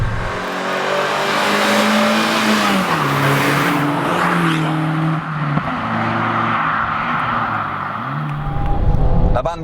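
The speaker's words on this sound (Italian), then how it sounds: "La Panda è adorabile perché sembra di stare andando veramente a velocità siderali" A Fiat Panda 100 HP engine drones and revs continuously from inside the cabin during fast driving, the pitch rising and dropping with gear changes, with a louder surge near the end.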